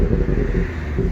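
A 2017 BMW 340i xDrive M-Sport in sport mode gives off a deep, steady exhaust burble close by, a continuous low rumble with slight pulsing and no clear separate pops.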